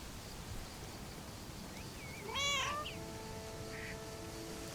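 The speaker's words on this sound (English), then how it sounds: "And her cats, of course." A cat in the game Lake lets out a single clear, drawn-out meow, moderately close and alone over a faint steady background hiss.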